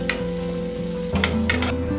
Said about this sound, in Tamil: சின்ன வெங்காயமும் ஒரு கொத்தளவு கருவேப்பிலையும் சேர்த்து நல்லா வதக்கிக்கலாம்